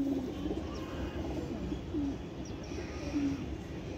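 Pigeons coo softly, three low throaty coos spaced a second or so apart against quiet background noise.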